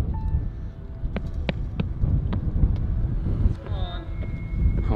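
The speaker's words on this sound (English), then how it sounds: "the wind is so hard here" Strong wind at an abandoned 1990s asylum in the Netherlands blows hard, roaring and buffeting the microphone in a constant low rumble. Scattered clicks and a brief voice come through over it.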